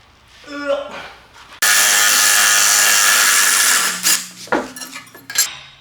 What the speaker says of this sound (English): rusty bolts will come out easier with an impact than it will by just trying to twist them